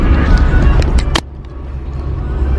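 Interior of a moving car on the road, a steady low rumble of engine and road noise throughout with a brief rattle near the middle, no talking.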